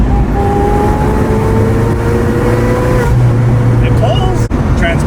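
A supercharged Volvo 245 wagon on LH 2.4 injection with blow-through MAF and altered fuel injectors and pressure drives along, its engine droning steadily and loudly with rising whine tones, while a person talks over it.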